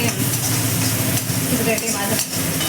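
Chopped onions sizzle and fry steadily in a hot pan for masala papad, with occasional stirring scrapes, close and continuous throughout.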